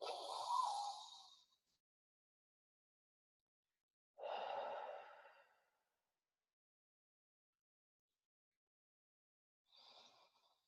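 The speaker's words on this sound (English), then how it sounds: "We're going to take 3 deep breaths" Three deep breaths, soft airy inhales and sighing exhales close to the microphone, the first two long and the last shorter, separated by quiet pauses.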